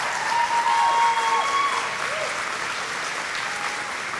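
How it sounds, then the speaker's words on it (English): A convocation crowd of graduates claps for their supporters, a dense, steady roar of many hands, strong at first and easing slightly, with faint whistling tones drifting over the top. "So I would ask you now to have a round of applause for your supporters"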